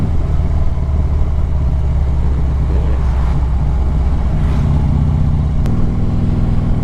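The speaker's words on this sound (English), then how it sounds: "See if I can get some recording of my bike. Sound." A Harley-Davidson Street Glide motorcycle rumbles steadily while riding, a loud continuous low engine drone with wind noise and no clear change in pace.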